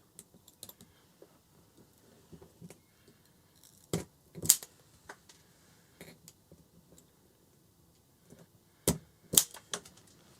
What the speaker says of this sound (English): And then we'll take our wire strippers. We'll strip off about a 1/2 inch.